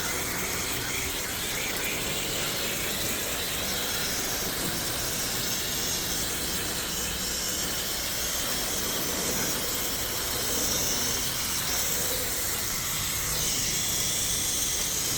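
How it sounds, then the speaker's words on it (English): Water spray rinses a sanded Audi A6 hood, a dense steady hiss of spraying and splashing water that stays close and loud with no pauses and no talk. "Rinse this off."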